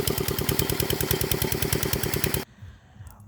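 A paddy-field irrigation pump engine chugs in a fast, even rhythm close by, running steadily for over two seconds before cutting off abruptly to quiet outdoor background.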